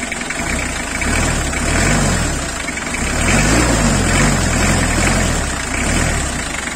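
A 1992 Nissan Cedric engine is revved in slow swells, rising and falling roughly twice over a steady loud idle rumble, close and without talk.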